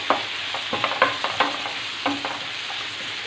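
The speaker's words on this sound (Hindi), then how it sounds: "फ्राई कर लेंगे, हल्का हल्का भून लेंगे।" Ginger garlic paste frying with eggplant in a hot pan, a steady sizzle broken by repeated scraping stirs of a spoon, close and loud with no talking.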